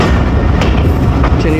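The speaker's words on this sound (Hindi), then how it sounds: "ट्रेन हमारी शाहीनाबाद जंक्शन पहुंच गई है ट्रेन" A train rolls into Shaheenabad Junction station in Pakistan, a loud, close, continuous rumble of wheels and carriages with rhythmic clatter throughout the short stretch.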